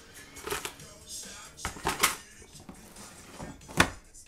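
A drawer in a craft room slides and clunks open, with several sharp knocks and rattles of its contents scattered over a few seconds, close by.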